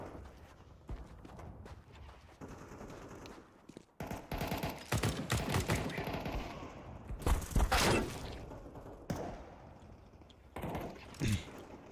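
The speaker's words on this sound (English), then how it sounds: "What sniper was that?" Video game gunfire with sniper rifles, a series of sharp, loud shots and rapid clattering bursts mixed with game noise, heard close and dense throughout.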